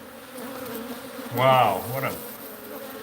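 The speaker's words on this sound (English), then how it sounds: "a mean bunch of bees" A mean bunch of bees buzz in a steady, low drone, with a brief startled exclamation from a person cutting across the middle.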